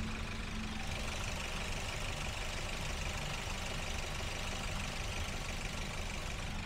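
A 2014 Toyota Avanza G with a manual gearbox idles in a steady, even drone, close and constant, with no voices.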